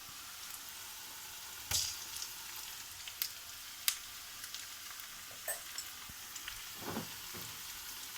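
Ginger garlic paste fries with cauliflower and turmeric in a pan, giving a faint, quiet sizzle with a few soft scrapes and taps of stirring, heard alone with no voices.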